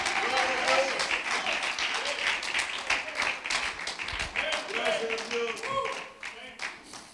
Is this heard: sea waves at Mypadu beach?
no